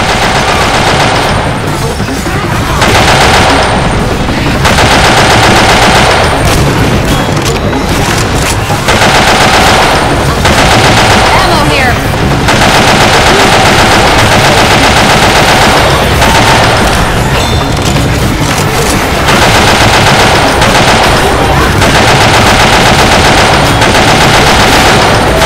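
Heavy machine gun fire in a video game, a loud and nearly continuous rattle in long sustained bursts broken by a few short pauses, mixed with other gunfire and booms.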